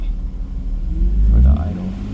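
A 1995 BMW E36 M3 with an S50 engine idles at about 750 rpm, a deep, steady low rumble that briefly swells, with someone talking over it.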